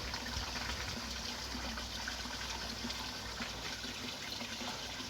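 Water jets from a shower falling into a garden pond, a steady, close splashing gush that runs evenly throughout with no talk.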